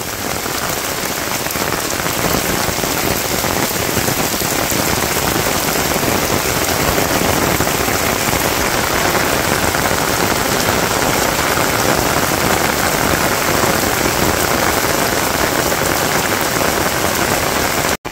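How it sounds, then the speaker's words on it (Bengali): Heavy rain pelts a paved road in a village, a constant dense roar of droplets close by, unbroken for the whole stretch and cutting off abruptly at the end, with no one talking. "তো বৃষ্টি মোটামুটি ভালোই নামছিল, আবার একটু কমে গেল।"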